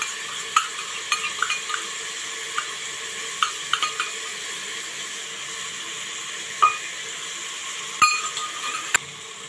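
Ginger-garlic paste sizzling in a pan for chicken biryani, a soft steady frying hiss with occasional spoon scrapes and light clinks against the pot, close and moderately quiet.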